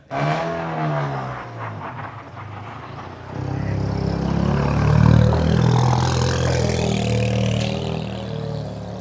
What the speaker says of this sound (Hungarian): Ez a Clio majdnem olyan vérmes és komoly hangot ad ki magából indításkor, mint Trepák Andornak a Megánja.